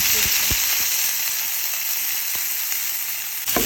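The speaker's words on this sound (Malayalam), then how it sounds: "ഈ ചെമ്മീൻ നന്നായിട്ട് ഒന്ന് വറുത്തെടുക്കണം" Loud, dense sizzling of shrimp frying in hot coconut oil, a constant hiss with occasional sharp pops and a brief clatter near the end.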